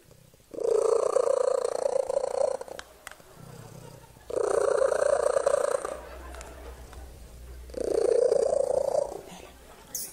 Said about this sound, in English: This is a woman whose cat makes, I guess, purrs really loudly.